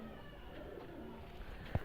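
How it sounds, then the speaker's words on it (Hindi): A single soft, low coo from an Ambarsariya pigeon sounds once near the end over a quiet background hum. "एक नंबर अंबर सरिया कबूतर है ये"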